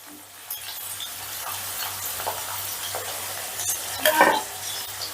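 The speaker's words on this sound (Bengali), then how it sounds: "একটু হালকা করে ভেজে নেব। দেখো, ঢ্যাঁড়সগুলোকে আমি হালকা করে ভেজে নিয়েছি।" Okra frying lightly in oil, a steady close sizzle with occasional stirring scrapes and a brief utensil clatter toward the end, over a low hum.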